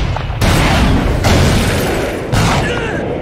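A box of bullets hit by a gunshot explodes in a police crime-drama scene, giving a rapid series of loud booming bursts, three heavy blasts in quick succession with rumbling between them.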